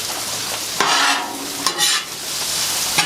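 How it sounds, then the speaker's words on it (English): Hash browns and butter are stirred and scraped on a hot griddle, with a steady close sizzle and several distinct spatula scrapes and clacks over the frying. "you're gonna wanna mix these very well, very good. Get all that butter incorporated into your potatoes."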